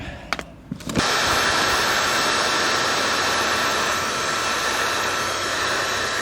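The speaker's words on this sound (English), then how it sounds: "And the heat gun will just get all the creases out." A heat gun switches on after a few faint clicks and blows a loud, steady roaring hiss while vinyl wrap is worked onto a car, holding constant to the end.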